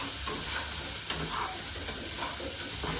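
Prawns sizzle quietly in a hot pan, a soft continuous hiss with a few faint pops and stirring sounds.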